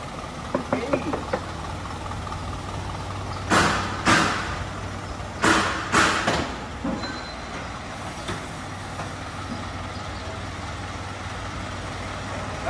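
A diesel Isuzu NPR wingvan truck with a 4HL1 engine idles steadily with a low constant hum, while several sharp, loud clanks and thumps break in near the middle and someone talks over it.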